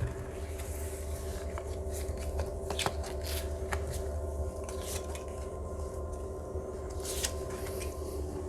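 Tarot cards are shuffled and drawn by hand at close range, a soft continuous riffling with quick crisp snaps and flicks scattered throughout, quiet and with no talking.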